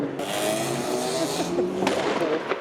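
An Audi R8 passes by at a car meet, its engine note rising and then fading as it goes by, with crowd noise and faint voices around it.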